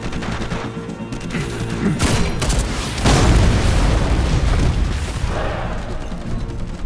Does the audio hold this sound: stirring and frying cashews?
no